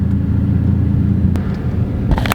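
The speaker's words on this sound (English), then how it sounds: "Show you guys a little bit of driving footage as we drive." Steady low road rumble from inside a moving car, continuous and fairly loud, with a brief sharp knock partway and some rattling near the end; no talking.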